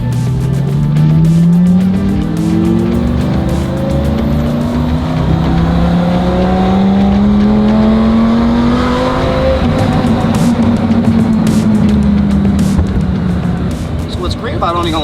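Lamborghini V10 revving hard under full acceleration, loud and close, pitch climbing through several rising sweeps with a brief drop as it shifts, then pulling upward again, with a voice cutting in over the engine.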